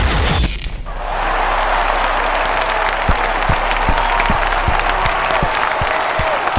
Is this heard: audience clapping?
yes